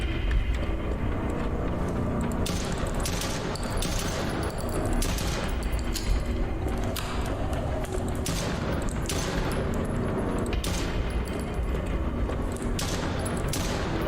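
Gunfire in a horror hospital video game comes as repeated bursts of rapid shots over a dense, constant rumbling background, loud and close, with no speech.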